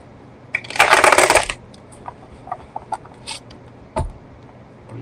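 A quick riffle of cards being shuffled, followed by scattered soft clicks and taps of cards being handled.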